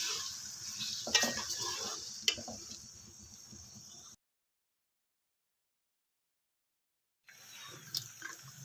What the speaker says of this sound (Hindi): इसको हम अच्छे से फ्राई कर लेंगे, हल्का सा लाइट सा कलर आएगा इसमें।